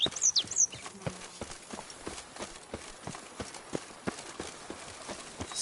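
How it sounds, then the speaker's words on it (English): A horse gallops in The Witcher 3: Blood and Wine, hooves beating a steady, fast clip-clop rhythm that stays moderately loud and close throughout, with no other sound competing. "Even a horse drops if you ride it at a constant gallop."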